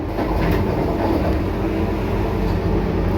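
A Vande Bharat express train runs at speed, heard from inside the carriage as a continuous loud rumble with faint rail rattle.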